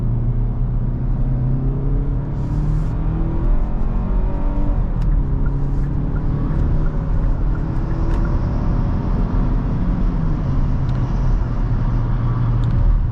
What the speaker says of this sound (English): Even this engine, it is very, very loud.